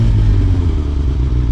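Suzuki GSX-R 750 motorcycle fitted with a 16-tooth sprocket accelerates hard out of a corner, a brief, loud, close engine roar heard from on board.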